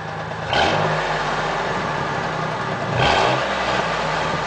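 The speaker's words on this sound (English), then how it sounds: "And rev it up a few times." A 1997 truck's 4.2 V6 on its stock exhaust revs twice in quick succession over a steady close idle, each rise swelling loud before dropping back.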